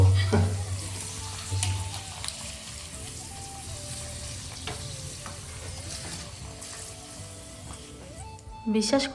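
Papad frying in hot oil in a home kitchen, giving a steady soft sizzle with faint bubbling that runs throughout, with occasional clinks and a brief louder stir near the end.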